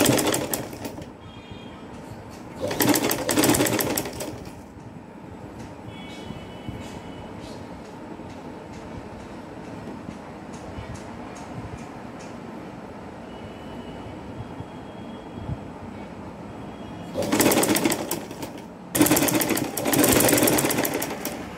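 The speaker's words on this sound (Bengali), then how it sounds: "ফুলগুলো তুলে এরপর আমি এই যে সাইডে সেলাইটা বসিয়ে দেব।" A sewing machine stitching a neck design on a garment, with short loud bursts of rapid mechanical clatter at the start and end separated by a long stretch of softer, steady whirring stitching.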